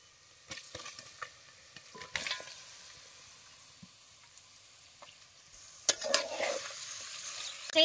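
Mutton stirred and frying in oil in a pot over a wood-fired stove, with soft scraping stirs and a steady sizzle that swells louder near the end.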